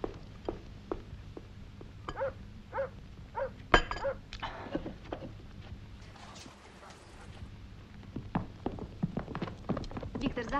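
Horses stand ready for departure at a country estate, hooves clopping sporadically against the ground at moderate distance while voices speak around them.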